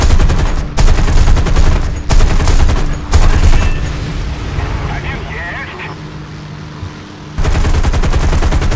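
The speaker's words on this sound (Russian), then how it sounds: "уже открываю огонь из всех орудий" Aircraft guns fire in the War Thunder combat game in loud sustained bursts that start and stop, with quieter gaps between volleys and someone talking over them.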